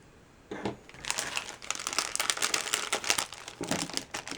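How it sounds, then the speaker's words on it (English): A sealed Lego Movie 2 minifigure blind bag crinkles and crackles in rapid, busy bursts as fingers squeeze and feel it, close and fairly loud after a brief quiet start. "There's some bags that you feel, and they're extra crinkly."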